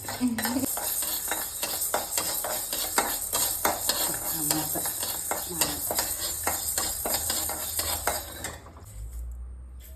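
A spoon stirs and scrapes roasting urad dal in a metal pan for chammanthi podi: rapid, continuous rattling and clinks up close. The stirring stops near the end, and a faint voice is heard briefly at the start.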